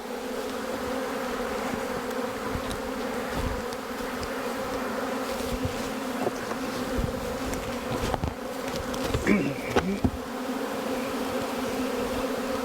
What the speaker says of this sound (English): I want those bees out of the hive.